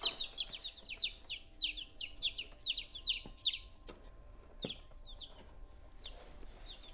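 Two-day-old baby chicks peep in a rapid series of high, sharp chirps, close and clear, thinning to scattered calls toward the end.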